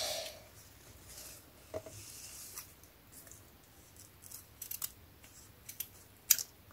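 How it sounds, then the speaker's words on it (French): Sharp scissors make a few quiet, crisp snips, scattered and spaced apart, over faint room hiss. "Alors un ciseau qui coupe bien, ce serait parfait."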